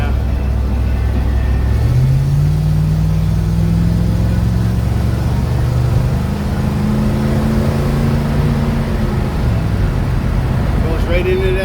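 A 1948 Chevy truck accelerates on the highway at speed, its engine pitch climbing in a steady drone and then dropping as it shifts into overdrive, under road roar and someone talking.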